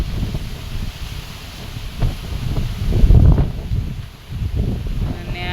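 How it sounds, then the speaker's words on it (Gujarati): Strong wind on a farm roars and buffets in uneven gusts, a loud, low rumbling rush that swells and dips and stays close throughout. "જોઈ શકો તમે કે કેટલો પવન છે એમ"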